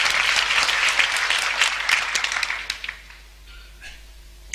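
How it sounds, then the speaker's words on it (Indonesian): An audience at a church sermon applauds loudly and steadily for about three seconds, then the clapping thins out and fades to a few scattered claps and near quiet. "Tepuk tangan untuk kebenaran ini."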